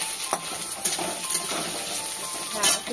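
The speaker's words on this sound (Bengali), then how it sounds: "হ্যাঁ, একটু ভাজা হোক আলুগুলো," Potatoes frying in a wok, a soft continuous sizzle with occasional scraping and clinks of a utensil against the pan, close and steady throughout.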